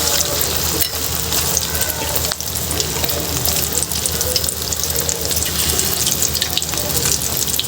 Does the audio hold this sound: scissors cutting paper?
no